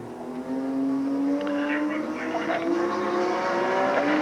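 NASCAR Busch North race car on a time trial lap at Riverside Park Speedway, its freshly swapped engine droning steadily at high revs, pitch slowly climbing as it circles the track, a bit distant and slightly muffled.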